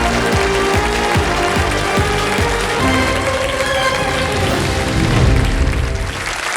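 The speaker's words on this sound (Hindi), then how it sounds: "तालियां बज जाएंगी" Studio audience applause on the Hindi quiz show Kaun Banega Crorepati season 16, a dense, steady wash of clapping throughout with some sharper individual claps early on, loud and sustained.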